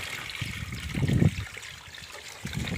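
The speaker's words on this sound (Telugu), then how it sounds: "వాటర్ తక్కువ నేను మళ్ళీ వాటర్ పెడుతున్నాం." Water splashes and trickles steadily into a fish tank holding hybrid murrel fish, swelling into a louder gush for a moment before settling back to a continuous pour.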